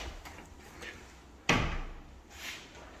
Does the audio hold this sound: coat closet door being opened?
yes